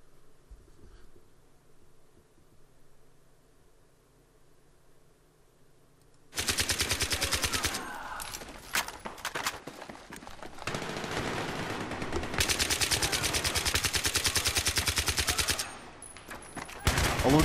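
AN-94 rifle in Battlefield 3 fires in the two-shot burst mode after a quiet stretch. Dense, loud, rapid gunfire runs for about eleven seconds, with brief gaps between bursts.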